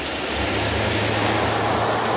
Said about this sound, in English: it includes this plane, which the Russian was shown